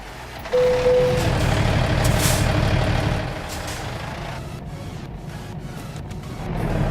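In American Truck Simulator, a heavy truck idles under a loud, sustained air-brake hiss that opens with a short tone and then cuts down to a lower engine rumble, which swells again at the end.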